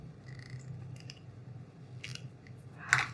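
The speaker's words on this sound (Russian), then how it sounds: "обрезаю кончик" Scissors snip off a yarn end while a crocheted bag handle is finished, a single crisp cut close by near the end, with a quieter click or two before it over faint room hum.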